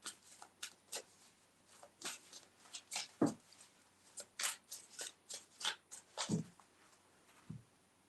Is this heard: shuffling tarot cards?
yes